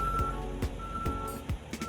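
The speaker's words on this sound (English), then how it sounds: "Too much traffic." A truck's reversing alarm beeps in a steady repeating rhythm over busy road traffic near an asphalt paving job at Pondside, Yallahs, St Thomas, the beeps close and clear above the rumble of engines.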